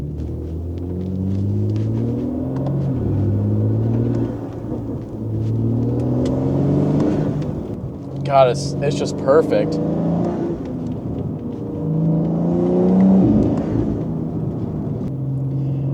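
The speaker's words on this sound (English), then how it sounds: "this is what it sounds like from in the car. Hopefully you guys will be able to hear the intake and everything." BMW M4 heard from inside the cabin while driving, with steady intake and exhaust drone rising and falling through repeated gear pulls, plus a brief whooshing blow-off-like hiss midway; someone speaks over it.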